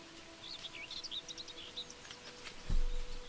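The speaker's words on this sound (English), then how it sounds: "then the birds might come in after the rain" Faint bird chirps and tweets flutter in short bursts over a low steady hum, followed by a brief dull thump near the end.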